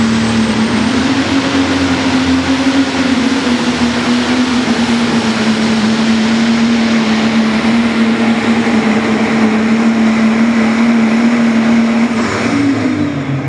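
A 10,000-pound diesel-powered super modified tractor of about 5,000 horsepower drags a pulling sled down the track, its engine roaring at full power in one loud, steady, unbroken drone throughout.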